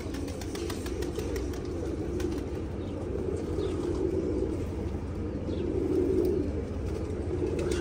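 Pigeons kept by a hobbyist on a balcony coo and shuffle with occasional wing flaps, a steady close murmur of low cooing throughout with no talking.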